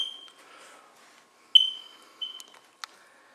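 Low-battery smoke detectors in a Florida townhome emit several short, piercing chirps at irregular intervals, each clear and close, with stretches of near silence and faint room noise between them.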